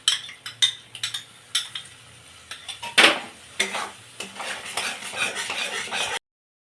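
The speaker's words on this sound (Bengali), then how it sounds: "তো এবার আমি টক দইটা দিয়ে আর একটু কষিয়ে নেব হালকা।" A spoon stirs and scrapes a cashew and melon seed paste with yogurt in a pan for malai chingri, giving irregular scrapes and metallic clinks over a faint, low sizzle.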